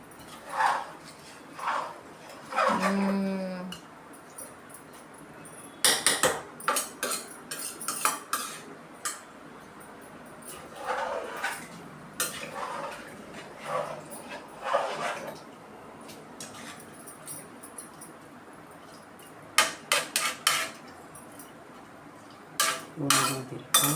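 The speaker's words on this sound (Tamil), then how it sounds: "எல்லாம் கிண்டிக்கலாம் பாருங்கள்." A spoon stirs chicken biryani in a pot, making intermittent metallic scrapes and clanks in short bursts with quiet gaps between them, close by and with no talking.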